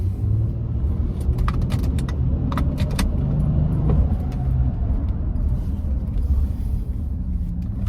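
A car engine roars continuously at high revs, close and loud, with a deep rumble and some rattling on top.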